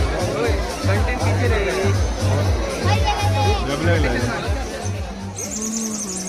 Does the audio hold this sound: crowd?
yes